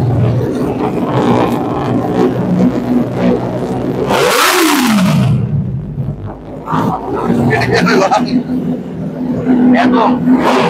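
A 2024 superbike with a carbon SC long-can exhaust, just cold-started, gives a single loud, rising-then-falling rev burst roughly mid-way, set among voices talking around it.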